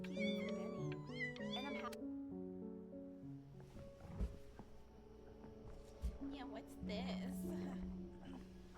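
Cat meows in the video game Before Your Eyes, several short harmonic cries in quick succession at the start, set over steady game music, with low thuds and sounds later in the scene.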